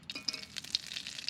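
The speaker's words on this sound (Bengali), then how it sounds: "ডিমটা ভেজে নেব।" An egg fries in a pan with turmeric and salt, giving a faint, brief sizzle mixed with light stirring scrapes and small clinks.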